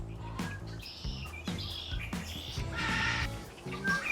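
Birds in a zoo aviary chirp and tweet in quick, overlapping bursts, fairly close and clear, with several short calls repeating over a few seconds and no one talking.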